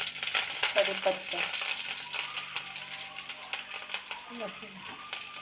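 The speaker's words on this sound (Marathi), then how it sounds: "ते आई तेल टाकून घेत आहे. इकडे जिरा टाकलेला आहे आईने, मिरची, कढीपत्ता," Cumin seeds, chillies and curry leaves spluttering in hot oil, a crackling sizzle with sharp pops and stirring scrapes, loudest at the start then settling to a steadier hiss.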